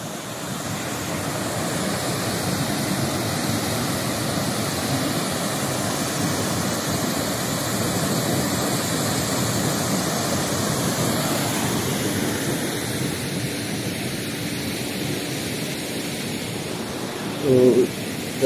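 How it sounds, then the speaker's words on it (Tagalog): Steady broadband rush of the waterfall at Lock 32, Fenelon Falls, Kawartha Lakes, Ontario, running continuously and fairly loud, easing slightly late on, with a brief louder bump near the end. "waterfalls."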